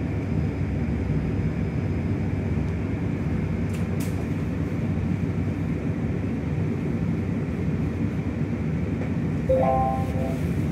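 A 71-932 Nevsky tram rolls through St. Petersburg, recorded from inside the car as a steady low rumble and hum of motors and wheels, with a brief tonal chime near the end.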